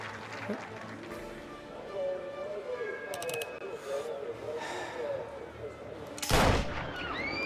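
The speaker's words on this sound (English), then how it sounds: "Reports of gunfire at the Turnbull rally." A rifle shot in the video game Mafia cracks out as a single loud burst late in the stretch, following a murmur of distant crowd noise and ambient sounds from a political rally setting.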